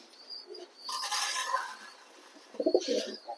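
A pair of yellow American fantail pigeons coo softly at close range in a few short, throaty bursts, with faint chirps in between.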